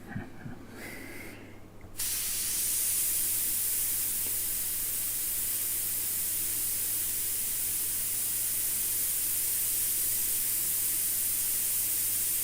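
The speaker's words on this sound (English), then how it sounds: "It's normally when you're doing fine stuff like that that the airbrush spits and ruins everything." Airbrush spraying paint onto a taxidermy piece gives a steady, loud, close hiss that starts abruptly after a short quiet moment and runs on without a break.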